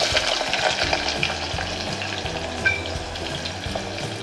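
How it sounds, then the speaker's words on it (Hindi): Onions sizzle steadily in hot oil over a raised gas flame, a continuous close frying hiss with occasional soft stirring scrapes, as roughly chopped onions are browned for a shahi chicken korma. "गैस की फ्लेम को बढ़ाई करना है और प्याज को अच्छे से हमको लाल कर लेना है पहले।"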